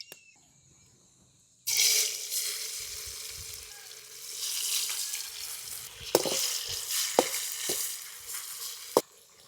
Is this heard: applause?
no